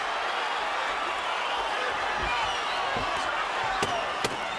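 Steady roar of a boxing arena crowd during the Shane Mosley vs. Sergio Mora fight, continuous and dense, with a few sharp impacts or claps near the end.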